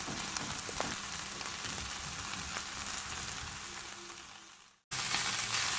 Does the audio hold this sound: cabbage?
yes